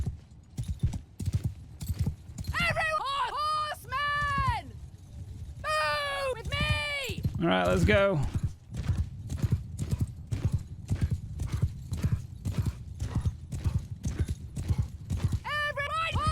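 Horse hooves clip-clop in a steady, rapid rhythm with an occasional whinny as cavalry charges across a battlefield in Mount & Blade 2: Bannerlord; someone shouts commands and talks over the galloping throughout.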